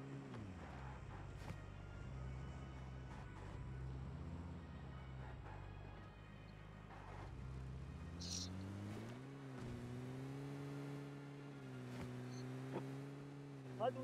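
A car engine drones in the video game PUBG Mobile, a low steady hum that rises in pitch partway through as the vehicle speeds up. It stays faint and even, with small game noises scattered around it.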